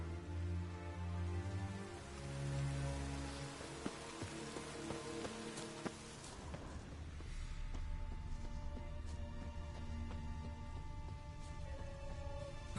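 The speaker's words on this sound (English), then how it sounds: "Looks like rain." Rain falls in The Witcher 3 video game, a steady wash of drops under low music and ambient tones that shift partway through, with no talk.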